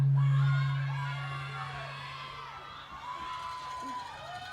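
An outdoor audience at the Choctaw Indian Princess Pageant, part of the annual Choctaw Indian Fair, cheers and whoops, a loud swell that fades into scattered shouts and yells with a strong hum beneath.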